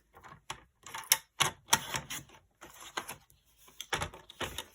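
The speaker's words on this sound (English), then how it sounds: "So trim this down to 5 inches." A paper trimmer cuts cardstock down to five inches: a string of sharp, close clicks and slicing scrapes at an irregular rhythm, faint overall.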